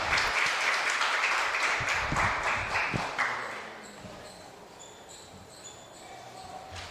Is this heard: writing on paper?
no